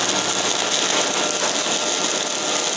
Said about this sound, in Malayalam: കണ്ടിന്യൂസ് വെൽഡിങ്ങാണ് ചെയ്യുന്നത്.